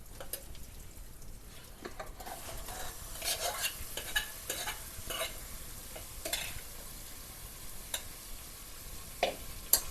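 Chicken with onion is stirred and fried in a pressure cooker pot, giving a continuous sizzle broken by repeated scraping and clinking strokes of a spoon against the metal, close and moderately loud.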